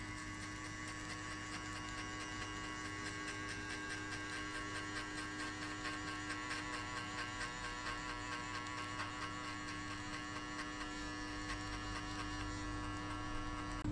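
Electric hair clipper buzzing steadily during a high skin fade haircut, a constant close electric hum that stays even throughout with no talking.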